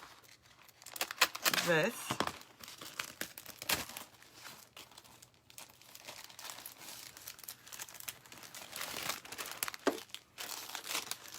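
Paper tears and crinkles up close for a decoupage flower project in ragged bursts of ripping and rustling, while a person talks throughout.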